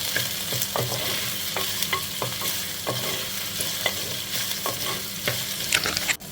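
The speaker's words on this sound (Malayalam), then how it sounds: "വെണ്ടയ്ക്ക ഒന്ന് 5 മിനിറ്റ് നമുക്ക് ഫ്രൈ ചെയ്തെടുക്കാം." Okra fries in a pan for a Kerala-style tamarind curry, a loud, continuous sizzle broken by repeated stirring scrapes and clacks, with no voices.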